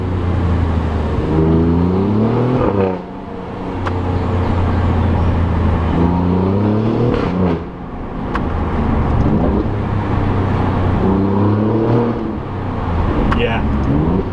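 An Alfa Romeo Giulia Quadrifoglio engine revs repeatedly in rising, falling sweeps, loud and close, with crackling exhaust pops between pulls.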